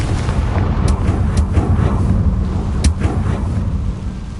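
A Confringo fire spell blasts in the Hogwarts Legacy video game, a loud, sustained roaring rumble with crackling bursts rising above it, running steadily throughout with no voices.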